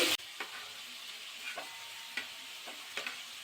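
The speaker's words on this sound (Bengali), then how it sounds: "এবার এর মধ্যে অ্যাড করে দেবো সিম" Flat beans are tipped into a pan of vegetables cooking for a Bengali pui and bitli chorchori. A brief loud rush starts it, then a steady close sizzle follows, broken by light stirring scrapes.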